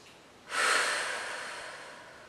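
One deep breath during a Pilates exercise, a single loud, close, airy exhale that begins abruptly and fades slowly over about two seconds, with no speech.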